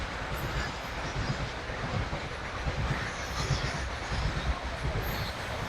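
A train rolls past a village, a steady rumble with rhythmic clickety-clack of wheels on rails, heard from a short distance at moderate level, with no one speaking.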